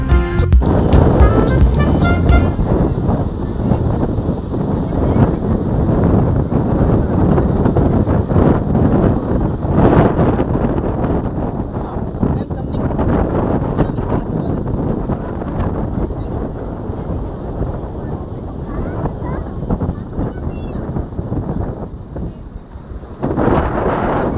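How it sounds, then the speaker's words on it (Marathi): Heavy rain and strong wind lash Vagator beach, a loud, continuous roar of downpour and gusts buffeting the microphone, steady throughout with no voices. "हे बहुतेक मी वॅगेटॉर बीचचंच हे काढलं होतं आणि खूप पाऊस होता"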